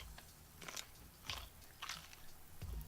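Someone bites and chews a raw carrot up close, producing several sharp, crisp crunches spaced about half a second apart against a quiet background, used to imitate the sound of a horse eating.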